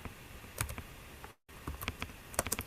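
Someone types rapidly on a computer keyboard to enter a chat message, giving close, uneven bursts of clicking keystrokes with a brief silent gap midway and no talking.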